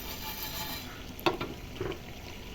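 Whole biryani spices such as mace and crushed nutmeg fry gently in a pan, a faint low sizzle with a couple of soft stirring clinks, no talking.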